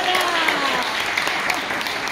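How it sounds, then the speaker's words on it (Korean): Wedding guests applaud the bride and groom's march, a dense, even wash of clapping from a crowd with voices mixed in. "신랑 신부가 행진하는 동안 큰 박수로 축복해 주시기 바랍니다."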